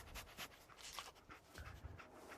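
Dogmeat, the dog companion in Fallout 4, panting in quick breathy bursts at close range, alone with no talk over it.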